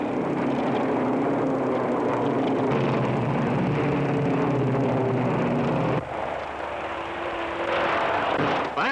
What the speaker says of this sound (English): 33 speed demons open the throttles and the 500-mile Blue Ribbon Classic of auto racing is on.